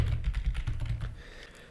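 A computer keyboard being typed on while writing Java code, a quick run of close, crisp key clicks that thins out and fades toward the end.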